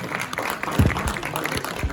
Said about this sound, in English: Collect their certificates and the goodies with a loud round of applause from my audience